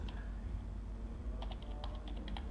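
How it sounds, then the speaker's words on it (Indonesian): Keys clatter on a computer keyboard in quick irregular taps over a steady background hum, close but quiet, with no voices. "ini misalnya di sini saya ketikkan kurikulum"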